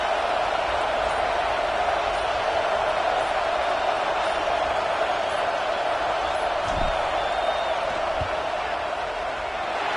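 A roaring stadium crowd in College Football 26 fills the air with a dense, steady wall of noise during a field goal attempt, loud and continuous with no breaks.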